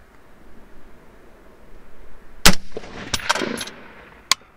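Gunshots from a BCA 20-inch M16A3 clone rifle firing Hornady M193 ammunition at long range: a sharp close report followed by a few more loud cracks and distant echoes.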